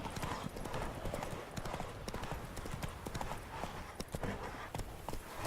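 The horse Roach gallops in The Witcher 3 video game, with steady rapid hoofbeats close by and a faint voice underneath.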